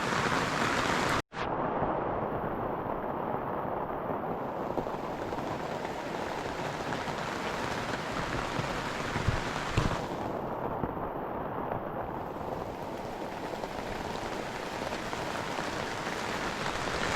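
Heavy rain pours outdoors at a muddy shop-build construction site, heard as a dense, continuous hiss and patter that stays loud and close throughout, with a sharp knock near the start. No talking is heard.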